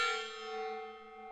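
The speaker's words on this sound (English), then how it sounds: "I got to bang this gong" A gong struck once in a home workshop, ringing out with a bright metallic crash that settles into a long, sustained shimmering hum and slowly decays, heard alone and fairly quiet.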